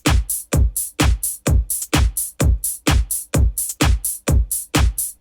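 Busy, higher-energy programmed drum pattern built in Soundtrap, steady fast hits with bright hi-hats over kicks, loud and evenly repeating with no voices.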